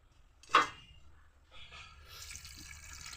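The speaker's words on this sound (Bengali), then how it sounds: "জল দিয়ে দিচ্ছি" Water is poured into a bowl of salted cauliflower florets, starting with a sharp splash and then a soft, steady trickle and gush, close and fairly quiet, with no speech.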